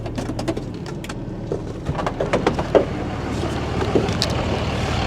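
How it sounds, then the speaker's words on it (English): Steady roaring wind buffets the microphone outdoors in the Great Sand Hills of Saskatchewan, with scattered clicks and knocks over the continuous rush. "Oh wow, is it ever windy?"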